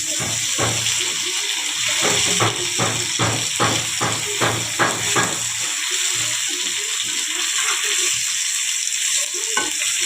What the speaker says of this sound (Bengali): দেখো কুমড়াটা ভাজা হয়ে গেছে